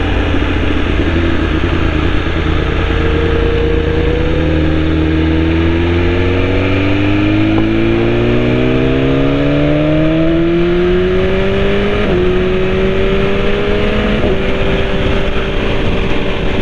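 A BMW motorcycle engine droning loudly while riding, its pitch climbing gradually through several long rising sweeps with brief gear-change dips, under constant wind roar close to the rider.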